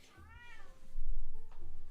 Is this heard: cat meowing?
yes